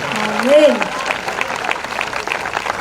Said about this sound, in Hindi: तालियों के साथ धन्यवाद करें।